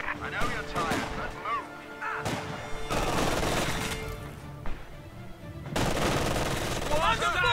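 Rapid automatic gunfire bursts crackle through a Company of Heroes 2 battle on Hill 400, mixed with explosions and shouted soldier voices, loud and dense with repeated volleys.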